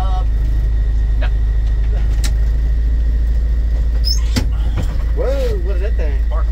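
Parking brakes on a 1979 International cabover semi truck. Mechanical clicks and a sharp pneumatic snap sound over a heavy, steady diesel idle rumble, close by, with people talking briefly near the end.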